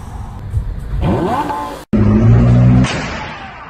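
A car maneuvers while trying to park in a roomy parking space, its engine revving up and easing off in two close bursts separated by a brief cut.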